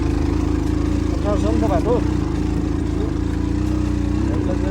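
Unserviced motorbike labouring along a rough village road near Baglung, Nepal: a close, continuous droning engine with steady rumble, while someone talks over it.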